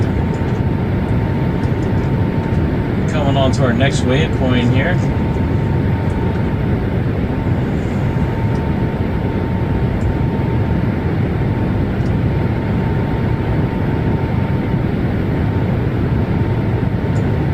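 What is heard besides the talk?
Boeing 737 MAX flying in video game Microsoft Flight Simulator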